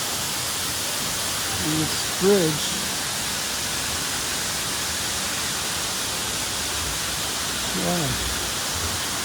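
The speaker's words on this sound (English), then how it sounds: "Now we're walking behind the waterfall here." Steady hissing rush of a waterfall, heard from a walkway behind it in a Shanghai park, forms a constant broadband backdrop while people talk briefly over it.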